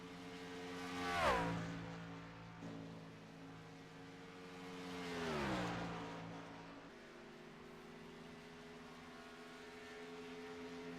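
Race car at speed on a qualifying lap at Charlotte in a National Speed Association event, engine passing close twice with rising and falling Doppler sweeps, then droning on steadily in the distance, no voices.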